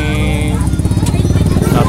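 A modified motorcycle built into a kereta odong-odong ride runs close and loud, its engine chugging with a fast, lumpy idle pulse while a voice talks over it.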